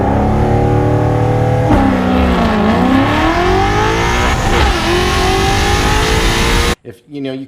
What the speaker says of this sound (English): you kind of hear it ramp up and then kind of bog down and then come back